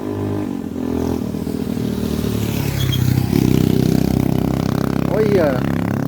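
Motorcycles passing on a Brazilian roadside, a steady engine drone that swells louder midway as they go by, with a brief dog yelp near the end and no clear talk.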